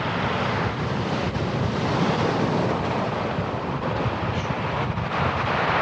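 Ocean waves break on a beach near a lighthouse, a loud, continuous wash of surf that fills the whole clip, with wind buffeting the microphone and no voices.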